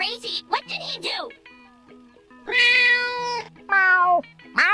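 A voice imitating a cat gives two drawn-out, whiny meows in a row after a few quick spoken words, loud and close.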